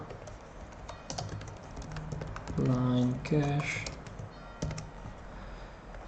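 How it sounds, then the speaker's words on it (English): Rapid computer keyboard typing clatters steadily throughout at close range, with someone speaking briefly over it partway through. "That's a lot of typing."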